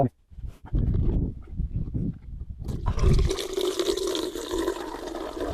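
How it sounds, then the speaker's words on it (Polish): Water draining from the flush cistern of a camping trailer toilet after a rubber plug is pulled, a close, steady gushing and splashing that starts after a second of handling noise and carries on for several seconds. "korek gumowy muszę to wyciągnąć i żeby wyleciała woda ze spłuczki"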